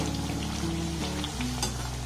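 Khaja pastry made of flour and sugar fries in small batches, giving a soft, steady sizzle of bubbling oil with faint tonal hum underneath, close and uninterrupted.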